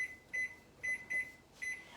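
A kitchen timer being set while baking kolaches, giving four short, clear electronic beeps in an uneven rhythm, close by over faint room hum.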